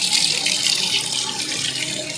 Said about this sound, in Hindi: ये देखो पूरा झरना बहता हुआ जा रहा है